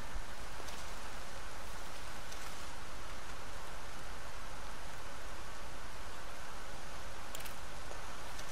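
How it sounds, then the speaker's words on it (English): Steady rain in the video game Red Dead Redemption 2 hisses and patters continuously, an even wash of falling drops with no voices. "It's starting to rain."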